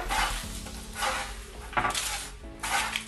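Puff pastry scraps mixed with a spoonful of powdered sugar are crumbled by hand on a metal baking tray, giving bursts of dry rustling and gritty scraping that repeat in short waves, close and fairly loud, with no talking.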